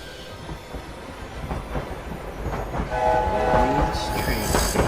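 Train at Leeds station in a Hogwarts video game, rumbling and clattering steadily with a squealing, horn-like tone rising partway through, fairly loud and continuous with no talk.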